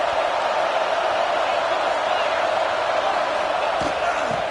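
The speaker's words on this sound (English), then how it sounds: "Listen to the crowd energy here in the early going." Stadium crowd at a Georgia at Clemson college football game, a dense, loud roar of thousands of voices sustained without a break, with an announcer talking over it.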